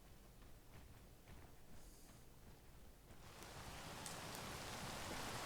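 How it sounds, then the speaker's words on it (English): Rain in the Space Engineers video game hisses as a dense, steady wash that swells noticeably louder halfway through, with no voices over it. "Oh, now it's raining again."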